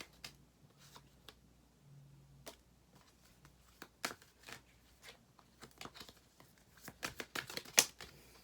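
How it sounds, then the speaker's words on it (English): Soft papery riffling and quick tarot card snaps, scattered at first, then busier bursts of shuffling toward the end, close and fairly quiet. "I don't need to shuffle this more"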